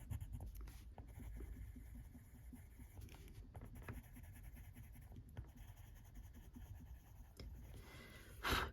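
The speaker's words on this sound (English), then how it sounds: "Blender pencil's going straight into the middle of this" A blender pencil rubbing over paper while colouring a cupcake in a Johanna Basford colouring book, soft steady scratchy strokes, quiet and close, with a brief louder rustle at the end.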